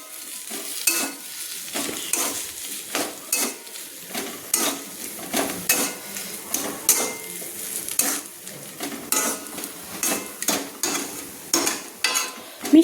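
A mashed banana-flower mixture with chopped coriander for mochar chop is stirred in a pan, giving repeated rhythmic scrapes and soft knocks of a spoon about every half second over a faint sizzle; nobody speaks.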